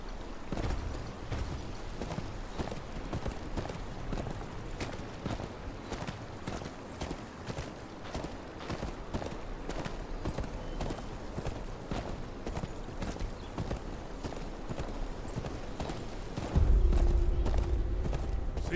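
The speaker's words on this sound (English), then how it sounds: "Where's your horse? Mount up and let's go." Horse hooves clip-clop at a steady walking pace in the video game Game of Thrones: Kingsroad, rhythmic and fairly close, with a louder, deeper rumble entering near the end.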